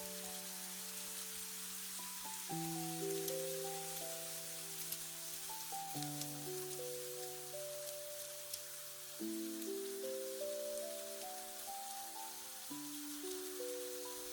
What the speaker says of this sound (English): let the rain that is falling tonight become a reminder